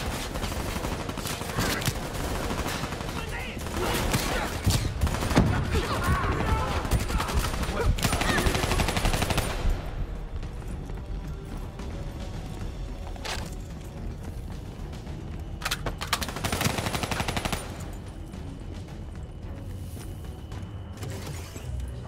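Sustained automatic machine gun fire in the video game Call of Duty: Black Ops III, dense rapid bursts roaring loud for about ten seconds, then quieter battle noise with another burst of fire later.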